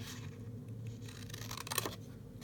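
Scissors snip a rose shape out of a paper napkin, producing quiet, close cutting and crisp paper rustle, with a short cluster of snips near the end and a low hum underneath.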